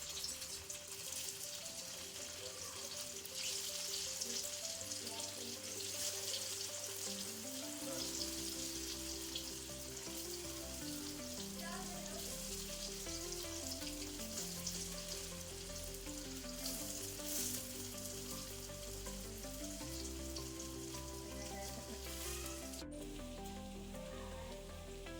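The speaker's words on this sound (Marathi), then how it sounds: "तेल गरम झालेलं आहे. मी वड्या टाकते." Ground-lentil coriander vadis frying in hot oil, a dense continuous sizzle over the full length with background music underneath and no speech.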